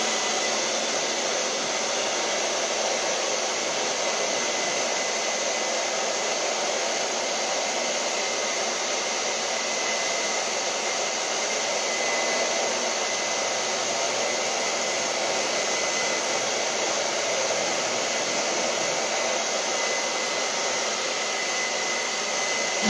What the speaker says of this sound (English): I'm going to hit it with the hair dryer just to get it dry